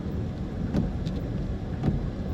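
Steady rain pours at night in a rainy city street, a dense, even hiss with a few faint thuds mixed in, and no voices.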